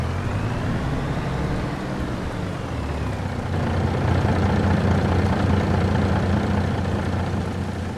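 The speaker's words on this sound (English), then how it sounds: "Let's pull the truck out." A truck engine idles with a loud, steady low rumble that grows slightly heavier midway through, running continuously without any voices.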